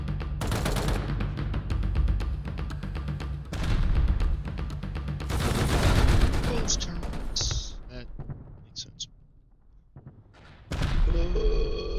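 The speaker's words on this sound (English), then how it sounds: "There were mortars being fired, people shooting everywhere" Mortar blasts and gunfire in the video game Rust, dense rapid shots and booms at varying distances, growing sparser and quieter toward the end with a few short electronic tones.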